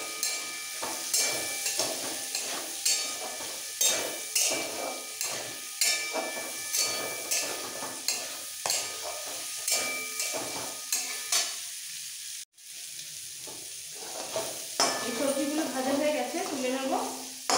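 Carrots, beans and peas fry in a pan for mixed vegetables, with soft sizzling and repeated regular knocks of a spoon against the pan, under quiet background sound.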